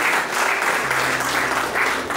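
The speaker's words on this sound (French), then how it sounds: "Sous vos acclamations" Wedding guests applaud steadily throughout a civil marriage ceremony, a dense, even wash of clapping from a room full of people, with a faint low hum underneath.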